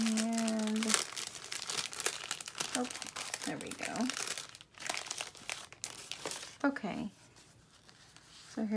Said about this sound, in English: I'm going to open this without tearing the plastic